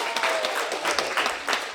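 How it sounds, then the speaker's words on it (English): Steady audience applause at a Boys and Girls Club event, a continuous wash of clapping that swells and dips for a couple of seconds with no speech over it. "Let's give Isaac a round of applause."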